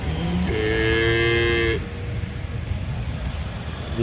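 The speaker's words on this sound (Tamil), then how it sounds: "இது ஒரு குட்டை மாடு இதுவுமே அந்த கொம்பு முன்னாடி இருக்குது இதுவும் ஒரு குட்டை மாடு" A native dwarf cow breed gives one loud, close, drawn-out moo lasting over a second, followed by low farmyard background noise.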